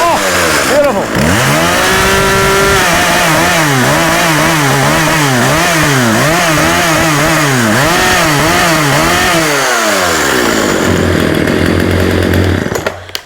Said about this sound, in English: Happy days, turn the saw on.